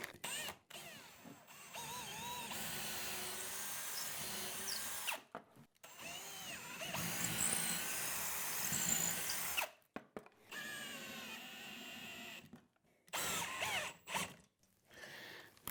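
A power drill drives screws into wall holes while a 98-inch Samsung QLED TV mount goes up, several long whirring bursts with short pauses between them, loud and close, with no talking.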